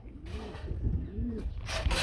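Soft, low pigeon coos roll on in a steady murmur, fairly close, with a few brighter noisy bursts near the end.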